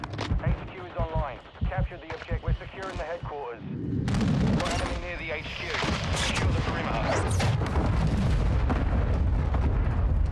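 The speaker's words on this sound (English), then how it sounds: "Where are those missiles from?" Missile strikes exploding in a Call of Duty match: after a few seconds of speech, a loud blast erupts and rolls into a sustained roaring, crackling barrage that fills the rest of the stretch, near and heavy.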